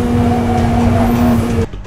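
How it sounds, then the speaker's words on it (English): Challenge race car on a hot lap, its engine a loud steady high-revving drone with a faint tire squeal, cutting off abruptly near the end. "We give them a hot lap in a challenge car."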